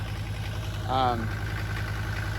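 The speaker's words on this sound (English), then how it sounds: "idling high, but it's good because cars usually idle high when they first start" A Mercedes diesel engine idles steadily at around 900 rpm, a close, even low throb with regular pulses, briefly overlapped by a short voice.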